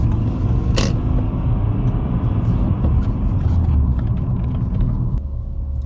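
A 2.3-litre five-cylinder 20-valve Audi 90 cruising on the road, a steady loud low engine and road rumble heard from inside the cabin, smooth and unbroken, with a brief higher whine near the start.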